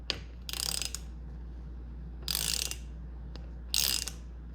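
A ratcheting 24mm socket loosens the top cap on a RockShox suspension fork: three short bursts of fast clicking pawl, close and clear over a low steady hum.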